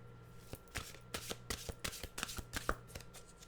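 Oracle cards are shuffled close by, a soft and faint run of crisp riffling flicks and taps in uneven rhythm. No one speaks.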